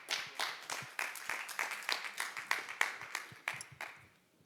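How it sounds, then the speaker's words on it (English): Applause for a speaker at a startup conference: a small audience's scattered claps and a few pulses of clapping, fairly quiet and somewhat distant, fading out toward the end. "Please, a big round of applause for Shreyas as well."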